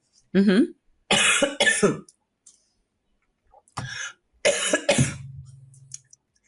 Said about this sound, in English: got through the whole sentence before I started to cough